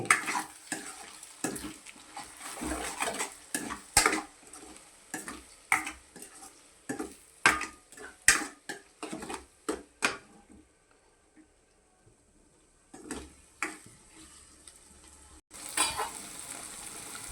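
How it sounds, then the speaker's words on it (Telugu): Egg fry stirred in a hot pan after salt and chilli go in: bursts of sizzling and scraping strokes repeat closely, pause into near quiet, then resume. "రుచికి సరిపడే ఉప్పు వేసుకుంటున్నాను ఇప్పుడు దీన్ని బాగా కలుపుకుందాము"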